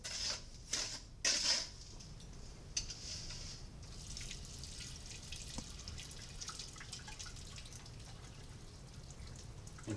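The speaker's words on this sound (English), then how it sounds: "Continue agitating and decanting over your sieves." Water being swirled and poured off over sieves while washing a sample, with splashing and dripping bursts early on that give way to a steady running trickle.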